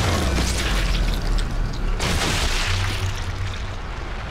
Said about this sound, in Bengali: ব্লাস্ট হয়ে যাবে।